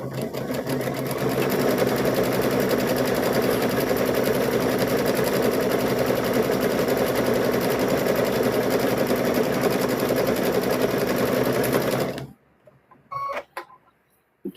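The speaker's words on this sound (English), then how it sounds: "Now we're going to sew around here, guys." A sewing machine runs continuously for about twelve seconds while stitching a stuffed bear, a loud, even mechanical whir up close, then stops abruptly, leaving a few faint handling clicks.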